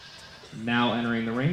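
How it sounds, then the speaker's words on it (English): Goat bleats in a county fair livestock arena during the market goat final drive, a loud wavering bleat rising over crowd and PA murmur, close and sustained for about a second. "Now entering the ring for the Market Goat Final Drive, Jocelyn Barga, Avery Stitzline, Trinity Cor"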